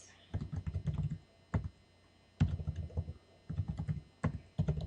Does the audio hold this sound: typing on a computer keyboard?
yes